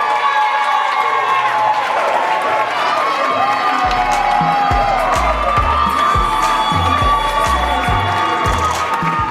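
A pageant audience at an Alpha Phi Alpha Miss Old Gold & Black event cheers, whoops and claps for the contestants, a loud, steady crowd roar over a thumping music beat that enters partway through.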